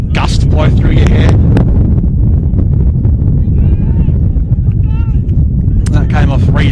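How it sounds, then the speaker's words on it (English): Strong wind gusting across a hillside outdoor football ground during a state-league match, a loud constant buffeting roar on the microphone with a commentator talking over it throughout. "Letting that gust blow through your hair."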